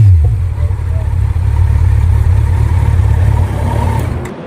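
A Kawasaki Z900 superbike engine runs close and loud, a steady throbbing rumble that holds even for several seconds and then falls away at the end.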